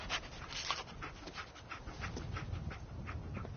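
Dogmeat, the dog companion in Fallout 4, pants close by in quick, rhythmic breaths that hold steady over a low background rumble.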